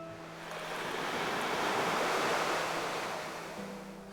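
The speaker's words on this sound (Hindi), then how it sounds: "लहरों की आवाज को ड्रामेटिक इफेक्ट के लिए छोड़ते हुए" Ocean waves roll in at Dumas Beach at night, a soft steady surf that swells to a fuller wash in the middle and then eases back, distant and alone with no voices.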